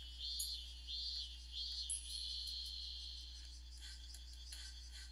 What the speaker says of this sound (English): That's the cicadas.